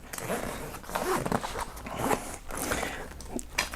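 A zipper runs around the C-shaped opening of an AER Gym Duffel 3, a 24-liter bag, in several close, loud ripping pulls with short pauses between strokes.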